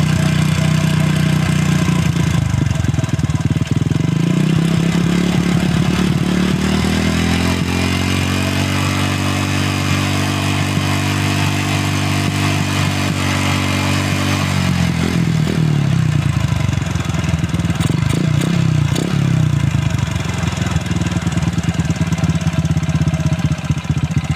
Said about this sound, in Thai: เราเร่งกรอคันเร่งนะ ครับเราหมุนปิดก่อนนะครับ